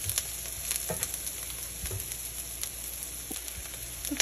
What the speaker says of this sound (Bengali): পেঁয়াজটা একটু ভাজা হয়ে গেছে, আর বেশি ভাজবো না।